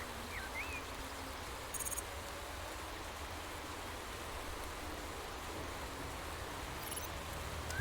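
Steady broadband rain hiss during a race in the Motorsport Manager video game, faint and even throughout, with a few brief electronic beeps.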